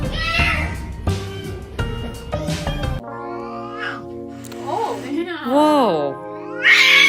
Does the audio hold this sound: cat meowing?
yes